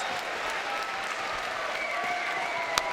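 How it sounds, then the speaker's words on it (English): An arena audience applauds after a boxing bout, a steady, moderately loud wash of clapping with a single sharper clap standing out near the end. "I'm going to stand up, Alex, and give that a clap. That's how good that fight was. Standing ovation."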